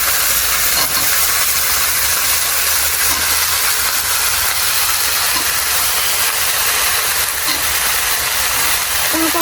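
Cauliflower florets frying in hot oil that is spitting from water, giving a loud, steady broadband sizzle with hiss and crackle throughout.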